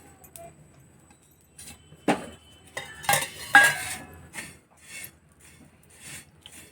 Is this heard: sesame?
yes